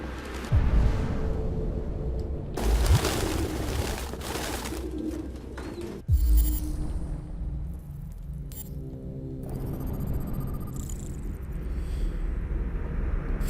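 Caged pigeons in a closet in the Detroit: Become Human video game coo steadily in a low murmur, broken by a few sharp clinks and shifting game ambience.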